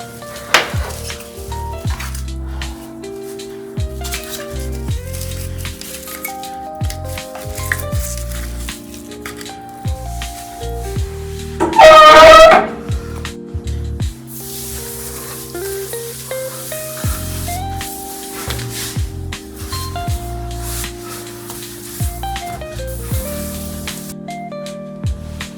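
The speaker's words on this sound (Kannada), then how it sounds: "ಪೂಜೆ ಸಾಮಾನೆಲ್ಲ ವಾಶ್ ಮಾಡ್ಕೊಂಡಾಯಿತು" Puja utensils being washed under running water, a brief burst of spray and splashing in the middle amid clinks and knocks of metal vessels, with background music throughout.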